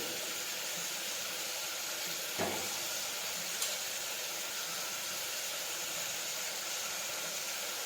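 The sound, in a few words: cumin seeds sizzling as added to hot oil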